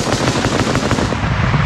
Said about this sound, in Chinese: 枪声大作，士兵蹲下找掩护。